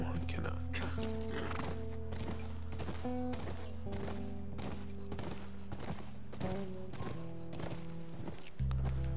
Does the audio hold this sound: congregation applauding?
no